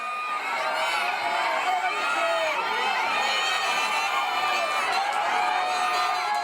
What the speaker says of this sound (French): La clameur de la foule